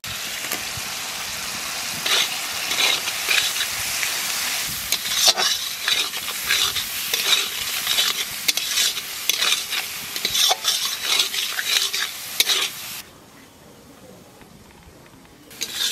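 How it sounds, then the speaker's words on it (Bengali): Spice masala with tomato frying in a pan for a catla fish curry, a loud continuous sizzle with rhythmic scraping and stirring of a metal spoon against the pan, dropping to a quieter simmer near the end. "মশলা ভালো করে কষায় নিচ্ছি"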